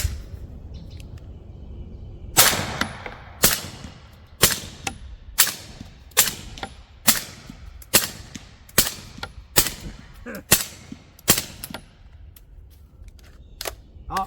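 A suppressed 300 Blackout rifle with a 6-inch Bear Creek upper fires about a dozen subsonic rounds in steady succession, each a sharp close crack with a clanking action, spaced roughly one second apart after a quiet start.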